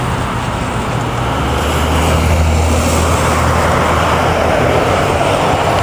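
Continuous loud rumble of road traffic on a cold, drizzly day on Long Island, a broad steady roar of passing vehicles close by with no pauses.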